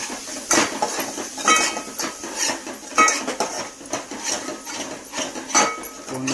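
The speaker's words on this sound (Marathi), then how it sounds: "चांगला परतवून घे." Kashmiri red chili powder and spices being stirred in a cooking pan with a utensil, giving repeated scraping and clinking strikes against the metal at an uneven rhythm, close and fairly loud.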